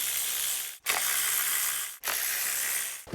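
A ratchet loosens 10mm ignition coil bolts on a 2006–2012 Toyota Rav4 V6, giving a fast continuous clicking buzz close by, broken twice by brief pauses as the handle resets. Nobody speaks.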